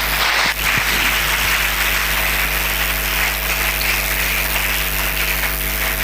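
A church congregation claps steadily in a dense, continuous wash of applause that fills the room, loud and sustained throughout with a low steady hum beneath.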